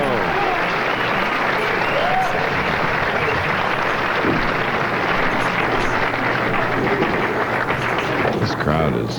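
A crowd at a 1993 True Value Open bowling match at Landmark cheers and applauds loudly and continuously, a dense wash of clapping and shouts that goes on without pause.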